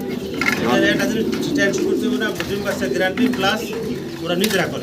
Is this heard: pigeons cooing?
yes